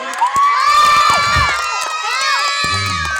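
A crowd at a town fiesta variety show cheers, shouts and whoops loudly and continuously, with children's high voices prominent in the mix.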